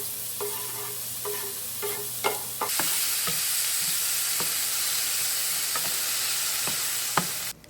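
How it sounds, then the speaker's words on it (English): Vegetables sauté in a pan with oil taken from chimichurri, sizzling steadily up close while a utensil stirs and scrapes in a series of short clatters; no one talks. "So I'm going to steal some of that oil from the chimichurri and use that to saute my veggies."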